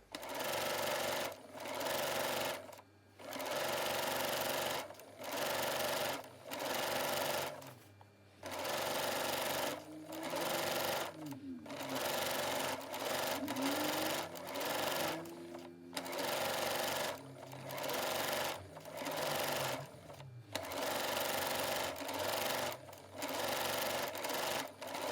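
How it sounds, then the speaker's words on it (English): A sewing machine hems the bottom edge of a skirt, running loudly and close in repeated bursts of a few seconds each, separated by brief pauses, with a faint tonal hum underneath midway. "So I just started by hemming along the bottom edge."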